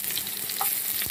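Onions sizzling and frying in a hot pan, a steady close crackle with a brief stirring scrape near the end.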